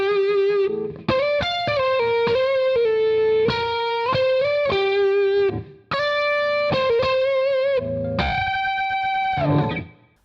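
Distorted electric guitar plays the outro solo of a song with bends and fast phrases, loud and close with effects, ending on a long sustained note.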